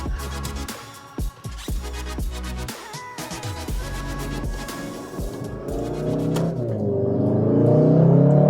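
A Volkswagen Golf R accelerating hard from a standstill on a test drive, engine note climbing through quick gear shifts with brief dips, then a rising sustained roar that grows louder toward the end.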